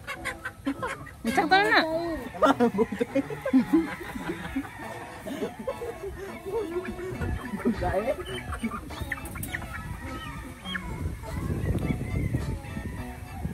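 Backyard chickens cluck and a rooster calls in a small coop on a rural farm, busy overlapping bird noise throughout, with a person speaking briefly over it.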